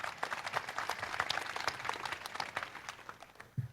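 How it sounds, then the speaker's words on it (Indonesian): Audience applause at an Indonesian panel discussion on the failure of reform, a steady wash of many hands clapping close by, thinning toward the end before a brief low thump. "Tepuk tangan dulu buat Oki Mandasari."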